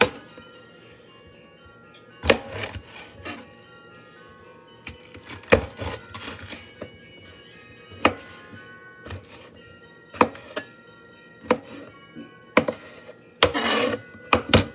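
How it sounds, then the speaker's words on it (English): A knife chops a pepper on a board in a home kitchen, giving irregular sharp thunks and clacks spread across the clip, loud and close, with soft kitchen clatter underneath. "And cut up your pepper."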